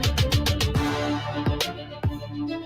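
Theme music for a live men's show blending drill and trap beats with orchestral epic strings and bagpipes, heard as a short burst of punchy kicks, sliding bass and sustained tones.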